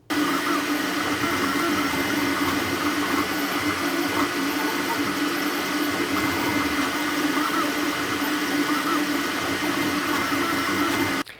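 A Sovol Zero fast 3D printer running, its motors and cooling fans producing a loud, steady whirring drone with a constant hum that holds evenly throughout before cutting off at the end.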